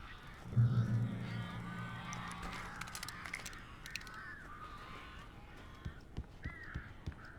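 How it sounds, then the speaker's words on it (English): Crows caw repeatedly in the horror game Alan Wake, harsh calls scattered over a low droning ambience, with a run of sharp rhythmic taps near the end. "These birds are weird."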